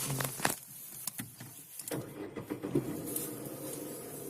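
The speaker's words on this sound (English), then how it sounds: "let's start the car" A Renault Kwid small car is started: a few clicks and mechanical knocks, then the engine catches and settles into a low, steady idle, heard from close by inside the car.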